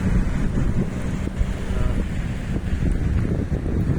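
A boat on the Molopo River churns up waves, giving a constant loud wash of water under heavy wind buffeting the microphone, with no clear voices.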